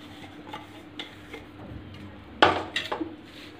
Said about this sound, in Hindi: अब हम सबको मिक्स कर लेते हैं